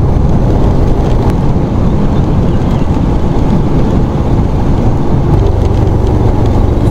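Heavy, continuous monsoon rain hisses over a loud, steady rumble of a vehicle moving slowly along a forest trail in Bandipur Tiger Reserve, South India, with wind buffeting close to the microphone.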